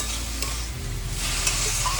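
A curry fries in a pan with black cumin and dry chillies, a steady close sizzle and stir with a low background hum and no talking.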